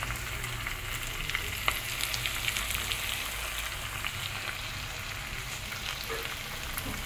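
Mutton sizzling and frying in its released oil in a kadai, with steady broadband crackle and occasional soft clinks of stirring, continuous and close throughout.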